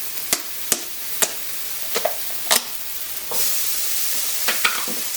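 Cooked taco meat and sausage being added and stirred in a pan with sauce and chicken broth, sounding as a soft sizzle broken by sharp utensil scrapes and knocks, growing to a fuller sizzle partway through, close with no talking.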